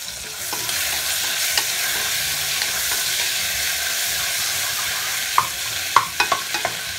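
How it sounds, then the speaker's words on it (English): Steady, dense sizzle of bacon frying in a pan, continuous throughout, with a few sharper pops and crackles near the end. "So I got my bacon right here frying."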